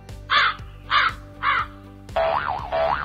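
Comic 'awkward' preset on a MAONO E2 streaming sound card: three loud, evenly spaced crow caws, followed by a longer wavering, warbling tone, over a faint steady beat.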